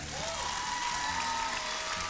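A studio audience at a live televised dance competition show claps loudly in a dense, continuous burst, with voices faintly audible beneath.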